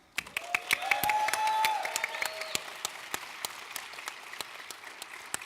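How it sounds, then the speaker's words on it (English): Live audience at an open mic night during a gaming fan festival, clapping with cheers and whistles swelling over the first two seconds, then thinning into scattered individual claps that continue to the end. "Everybody, give him a round of applause."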